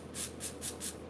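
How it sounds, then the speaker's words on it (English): Texture spray hisses onto hair in four short, even bursts, evenly spaced and close, with no talking. "undone texture spray"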